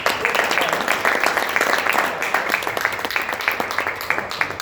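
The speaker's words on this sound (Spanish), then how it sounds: "Un aplauso al Señor, un aplauso." Applause from a church congregation during a worship service, with rhythmic clapping sounding in fairly regular beats and voices mixed in beneath it.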